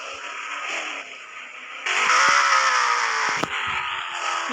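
A car engine with a turbo, a sustained whining drone that steps up sharply in loudness partway through, with a brief click and a high hiss riding over the engine tone.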